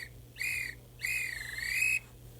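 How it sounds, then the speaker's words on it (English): Two shrill railway guard's whistle blasts, a short one then a longer wavering one, sounding somewhat distant over a low steady rumble. "That sounds like a guard's whistle"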